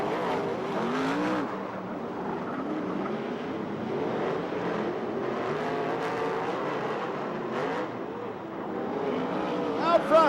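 USAC/CRA sprint cars race past at Ventura, their engines a distant, wavering roar rising and falling as they circle, with a commentator talking over the sound throughout.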